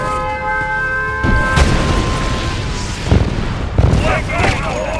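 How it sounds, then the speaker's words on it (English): In Red Alert 2, a nuclear missile strike lands with several heavy booms and rumbling blasts over steady battle noise, while a synthetic game voice announces events in between. "Nuclear missile launched."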